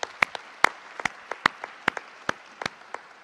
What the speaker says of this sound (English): Big applause for the strategic committee of the DTS.